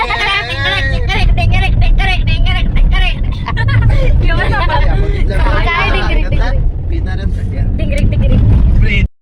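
A jeep engine drones steadily while the vehicle is driven, mostly buried under loud, continuous talk from several people riding along.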